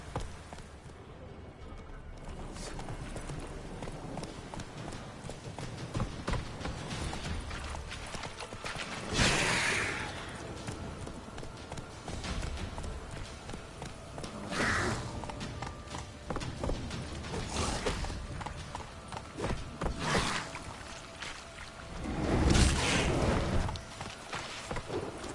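Horse hooves clip-clop steadily under a rider in The Witcher 3, with a mid-distance trotting rhythm, occasional louder thuds and game ambience, and a voice speaks briefly.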